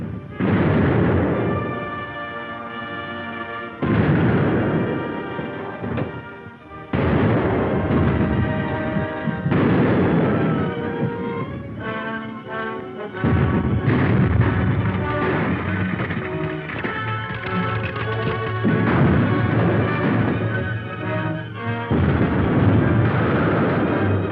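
Naval guns fire again and again in a 1936 war film battle, heavy booms arriving in bursts over loud, dense battle noise and music, with no gap of quiet.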